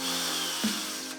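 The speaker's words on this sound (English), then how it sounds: "Hey, look where you're drilling." A power drill whines steadily at close range, with a faint thump partway through.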